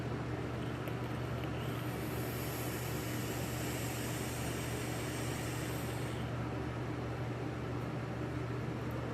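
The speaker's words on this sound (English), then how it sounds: "I do apologize for the noise of the fans going out here." Several fans run in a hot South Florida room, making a steady, even whooshing hum with a faint low drone underneath, continuous and unbroken with no talk.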